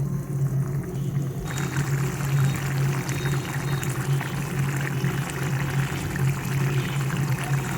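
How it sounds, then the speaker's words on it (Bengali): Water pours steadily into a pot of home-style chicken curry, making a continuous close rushing and splashing sound over a low hum, with no speech. "পরিমাণ মতো জল দিয়ে দিচ্ছি।"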